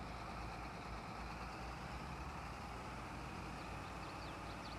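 A tractor engine strains steadily while pulling a Case IH combine stuck in the mud in Farming Simulator 22, a constant low rumbling drone, faint and unbroken, with no talk over it.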